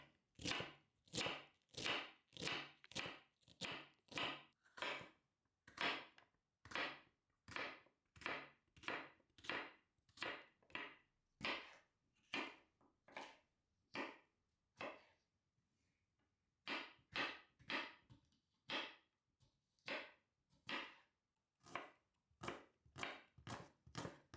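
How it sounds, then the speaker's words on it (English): A knife chops green and red chilies and the white part of spring onions on a board, a long run of crisp, evenly spaced strikes in steady rhythm, pausing briefly midway before continuing, close and clear with no talking. "Chop up a green and a red chili and the white part of a few spring onions."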